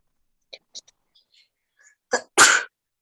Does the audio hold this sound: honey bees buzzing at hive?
no